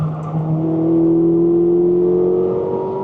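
A Ferrari 458 Speciale revs while driving, its engine note climbing smoothly and loudly up close in a bright, rising howl with no voices over it.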